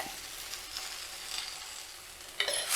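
Okra pieces fry in hot oil in a pan, giving a continuous soft sizzle with light stirring scrapes, ending in a brief louder burst of spattering.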